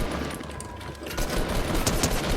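Fortnite gunfire crackles in dense, rapid bursts over a noisy, busy game soundscape, steady and moderately loud throughout, with no voices over it.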